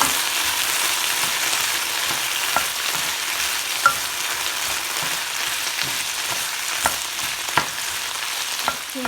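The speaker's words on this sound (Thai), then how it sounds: "ใส่ซีอิ๊วลงไปผัดด้วย" Wild garlic flowers stir-fry with soy sauce in a pan, giving a continuous close sizzle with occasional soft clinks and scrapes of stirring throughout.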